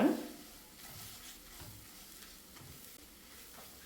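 Maida flour cooks gently in butter over a low flame, giving a soft, faint sizzle with occasional quiet stirring scrapes; no voices.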